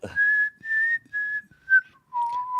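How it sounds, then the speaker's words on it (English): Someone whistles a short tune in five sustained notes separated by brief pauses, the last note dropping lower; clear, close and alone. "And then he starts whistling."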